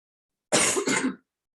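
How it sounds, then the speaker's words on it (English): A single close throat-clearing cough from a speaker at an in-person lecture on COVID mathematical modelling. It lasts a short harsh double burst and then silence. "It's a problem with in person, you can't mute to subtly cough, can you?"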